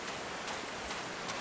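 Rain falling in the video game Call of the Sea, a soft, steady hiss of drizzle with faint scattered droplet patters, quiet and unbroken, with no talking.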